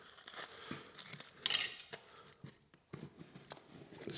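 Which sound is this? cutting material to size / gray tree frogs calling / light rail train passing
cutting material to size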